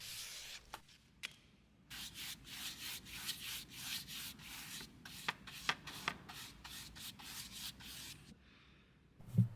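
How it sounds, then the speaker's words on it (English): Sandpaper rubs by hand over a mahogany veneer repair on a writing slope restoration, a soft, quick back-and-forth scratching with a few light knocks, faint and close. "I just need to give it a quick sand and then stain and wax that mahogany"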